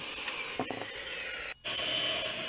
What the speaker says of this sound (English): Cutting the posts for the railing at the top.